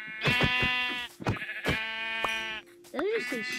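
Sheep in Minecraft survival gameplay bleat several times in a row, loud and close, with harmonic, drawn-out cries separated by short gaps.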